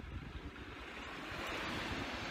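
Sea surf rolling onto the shore at Felixstowe, a broad steady wash of breaking water mixed with wind buffeting the microphone, fairly faint and continuous with no voices.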